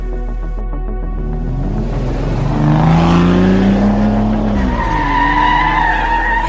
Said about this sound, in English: And then I heard the car just take off behind me.